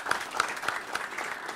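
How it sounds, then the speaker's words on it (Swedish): Studio applause on a livestream talk show, honoring a Swedish long jump record holder: a short, moderate patter of a few people clapping, fairly near and steady, with no voices over it. "Ja, det är applåd för det"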